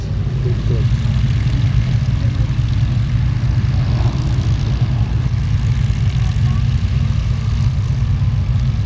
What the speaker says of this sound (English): they're going to do a sneak pass of the Merlin Spitfire